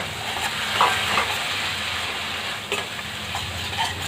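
Chopped tomatoes fry in the pan of a Telangana mutton curry, a steady close sizzle with a few soft stirring scrapes and no talk.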